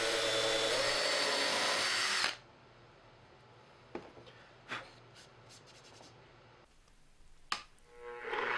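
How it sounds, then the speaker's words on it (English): Drill bit boring a hole through two pieces of wood glued together, part of making wooden bandsaw wheels; a loud, steady drilling whine runs for about two seconds and stops abruptly, followed by quiet handling knocks and small taps. "I used 2 pieces of wood glued together to help guide my drill bit straight."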